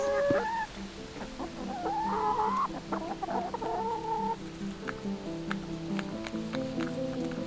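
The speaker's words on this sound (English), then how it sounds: "I really start enjoying to have chickens" Several chickens clucking and murmuring close by, a steady run of short calls and trills with a busy farmyard background.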